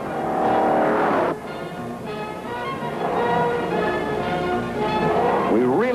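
A Hurst Olds, nicknamed the Silver Screamer, accelerates hard on a road test, its loud engine note climbing through a gear change with a rising, strained roar that keeps building toward the end.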